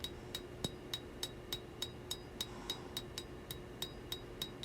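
Steady rhythmic hammer blows on a steel camp knife bevel during hand forging, ringing metallic strikes repeating about every third of a second, fairly close and clear, with no talk.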